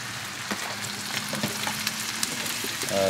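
Mushrooms and onions frying slowly on a small Cadac Grillo gas grill outdoors, a steady close sizzle with scattered pops and light stirring clicks throughout.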